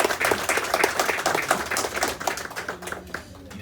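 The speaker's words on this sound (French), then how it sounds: "applaudissez encore une fois chaudement, s'il vous plaît." Wedding guests clap warmly in a sustained round of applause, dense and fairly close, gradually thinning toward the end with faint voices mixed in.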